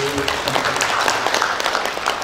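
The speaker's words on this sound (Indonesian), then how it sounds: "tepuk tangan untuk aksi" Audience applause at an installation ceremony for association officers in Indonesia, a steady dense wash of clapping throughout with some voices mixed in.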